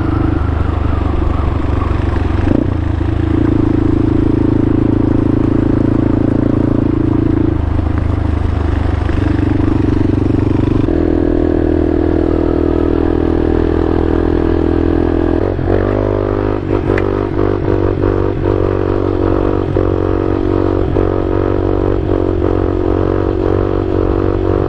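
Dual sport motorcycles, a CSC TT250 and a Honda XR, ride steadily with loud continuous engine drone, shifting pitch as they change gear, plus scraping and clattering from the trail throughout.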